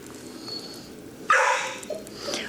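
An adolescent dog lets out a sharp close bark followed by a high whimpering whine, in a quiet room with no talk.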